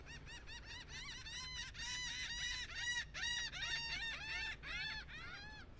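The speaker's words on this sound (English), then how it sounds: "Two seagulls squawking at each other." Two seagulls on a beach in North Naples, Florida, squawk back and forth in a run of loud, harsh, repeated calls that overlap and trade off over several seconds.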